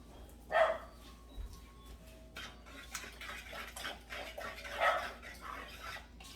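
A dog barks a couple of times, the sharp barks standing apart at the start and near the end over a quiet room background with faint clatter.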